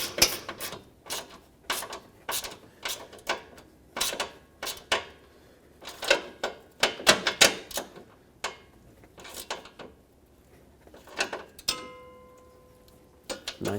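Bolt and nut being tightened with a wrench while mounting an AC condenser on a 1996-2002 Toyota 4Runner: a series of sharp, close metallic clicks and ratcheting ticks in irregular bursts, ending with a brief ringing tone.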